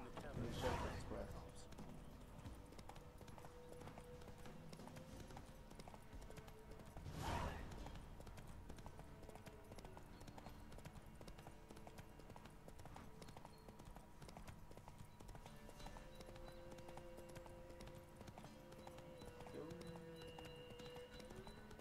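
Galloping horse hooves from The Witcher 3 video game, a steady rapid clip-clop running throughout under game music and someone talking, with a couple of louder thuds.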